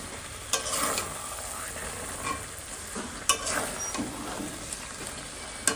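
Fried rice cooking in a large wok at home, a continuous close sizzle broken by repeated scraping stirs of the spatula against the pan.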